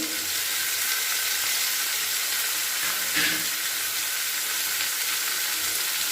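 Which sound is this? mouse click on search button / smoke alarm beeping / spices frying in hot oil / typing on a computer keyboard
spices frying in hot oil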